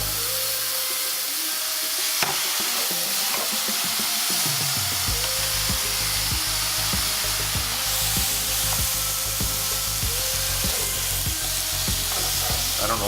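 Top sirloin steaks sizzle on a Chefman indoor grill turned to high, a loud steady hiss that jumps up as the meat goes on, with repeated soft clicks over the constant frying.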